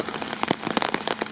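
Rain falls steadily on surfaces in a garden during a thunderstorm, a dense patter with scattered louder drops striking nearby, close and fairly quiet, with no voices.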